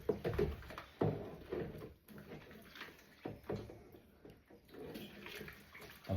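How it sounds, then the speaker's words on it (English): Water runs and splashes in a kitchen sink while dog bowls are washed by hand, with uneven bursts of splashing and clinks of dishes between quieter stretches of running water. "I'm trying to stand far away enough from the sink not to keep splashing myself"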